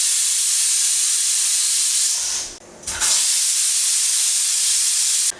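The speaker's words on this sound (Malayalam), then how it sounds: "മൂന്ന് വിസിലിന് ശേഷം ഞാൻ കുക്കർ ഓഫ് ചെയ്തിട്ടേക്കുവാണ്" Pressure cooker on a stove cooking tomatoes, letting out a loud, sustained steam whistle that breaks off briefly and then hisses on steadily again, close and alone with no voices.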